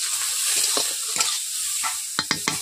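Onions with a pinch of salt fry in a pan, a soft sizzle broken by several sharp spatula stirs and scrapes, close and clear, the last few coming in a quick cluster.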